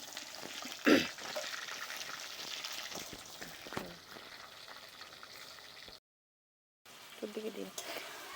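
Chili chicken with onion, capsicum and tomato sizzles in a pan with scraping stirs and a sharp clatter near the start; the sound cuts out briefly, then resumes.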